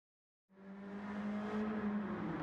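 Audi TTS Coupe '14 in Gran Turismo 7 pulling away on track after a moment of silence, its engine note a steady, loud drone with sustained revving and a hint of tire noise.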